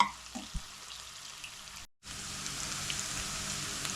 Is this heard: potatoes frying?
yes